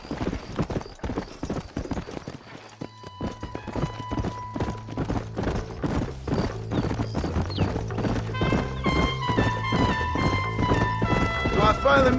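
Horse hooves galloping in the Red Dead Redemption video game, a fast steady clip-clop close by, with game music and character voices talking over it throughout.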